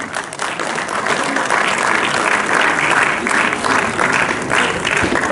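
Audience applause fills a staged Urdu comedy drama performance, a dense, steady wash of many hands clapping at close range throughout, with no talk over it.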